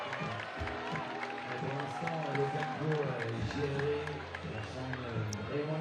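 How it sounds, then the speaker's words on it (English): A crowd at a men's lead climbing final in Chamonix cheers and claps, a broad swell of noise rising and falling beneath a commentator talking throughout. "That got the crowd going"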